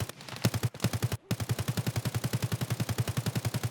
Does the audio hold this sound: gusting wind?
no